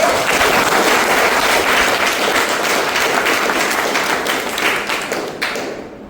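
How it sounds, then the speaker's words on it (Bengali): An audience at a career counseling program in a garment factory breaks into loud, sustained applause close by, dense clapping that slowly thins and fades toward the end. "সবাই সবার জন্য জোরে একটা হাততালি দিব"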